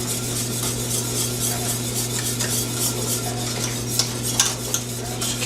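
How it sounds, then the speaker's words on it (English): A whisk scrapes rhythmically across the bottom of a pan of thickening cream gravy, steady swishing strokes with occasional metallic clicks over a low, constant stovetop hum. "Keep your whisk in contact with the bottom of the pan"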